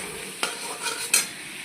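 Okra and potato stir-fried in oil in a pan, a steady soft sizzle broken by two sharp scraping clinks of the spatula against the pan.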